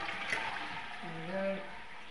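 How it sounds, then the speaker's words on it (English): A toilet in a new-build show home's en-suite is flushed, and rushing water runs briefly while someone talks over it. "So let me just flush that toilet."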